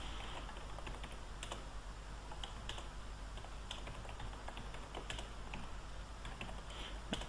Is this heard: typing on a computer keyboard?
yes